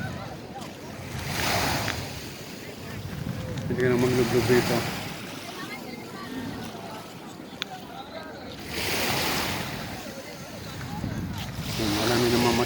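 Sea waves washing onto the beach at Manila Bay, surging in rhythmic swells every few seconds with wind noise, while people talk nearby over the surf.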